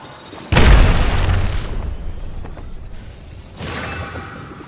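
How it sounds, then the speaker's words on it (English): A grenade goes off in the battle royale game Apex Legends with a loud, close boom that rolls off into a long decaying rumble, followed by further bursts of noise a few seconds later. "Grenade incoming!"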